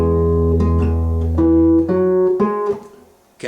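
A short run of plucked guitar notes from a song rings out, some overlapping into sustained tones over a low held bass note, close and fairly loud.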